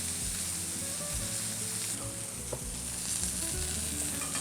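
Steaks sear in a hot pan, a loud, continuous crackling sizzle that holds steady throughout with no talking.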